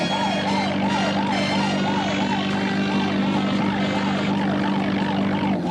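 A wailing siren rises and falls in a quick, repeating cycle, loud and continuous over a steady engine drone.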